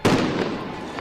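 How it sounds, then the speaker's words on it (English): Loud bursts from explosions at a street protest in Los Angeles, a sharp blast at the start followed by a dense, rumbling wash of noise that carries on throughout, with another faint pop near the end. "what are the explosions?"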